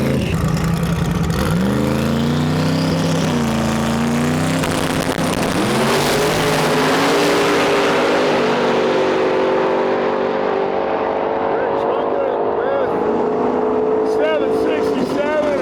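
A 1972 Plymouth Duster drag car of over 2000 horsepower launches and roars down the strip at a motorsports park, its engine climbing steeply through the gears in one loud, sustained run that slowly fades toward the end.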